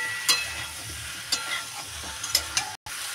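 Vegetables and chopped chui jhal are sautéed with spices in a pan, with a soft sizzle under several sharp scrapes of a spoon stirring the mix.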